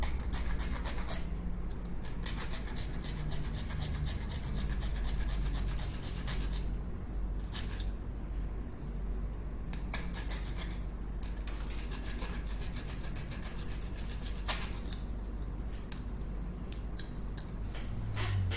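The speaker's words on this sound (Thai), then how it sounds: "ใช้ตะไบนะครับขัดหรือว่าเป็นกระดาษทรายก็ได้นะครับขัดผิว" Steady rasping of a hand file across old PVC pipe while shaping a faucet wrench, a continuous scraping stroke rhythm with a few brief pauses, close and fairly loud throughout, no talking.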